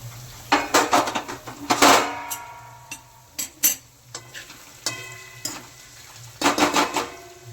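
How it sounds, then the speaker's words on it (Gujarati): Onions and tomatoes fry in a pan for pulao, with bursts of a spoon scraping and clanking against the metal over a quieter underlying sizzle, close and without talk. "હવે બે થી ત્રણ મિનિટ આપણે આને સડવા દઈશું"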